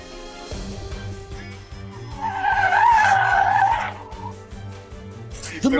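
Car tires squeal and skid loudly on a highway for a couple of seconds before a crash, over a steady engine drone and background music, ending with a sharp impact.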